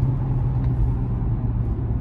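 A cheap used car at a dealer-only auction gives off a steady, loud, low engine rumble from inside the cabin, fairly even with no clear rise in revs, and nobody talking.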